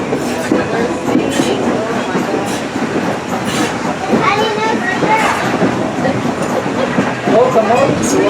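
A Strasburg Railroad train runs along the track, a steady loud rolling rumble with clicking wheels and rattling cars, while a narrator talks over it.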